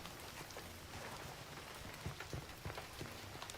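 Steady rain falls in the video game Indiana Jones and the Great Circle, a dense, even wash of drops with a few louder thumps and footstep-like taps near the end, no talking.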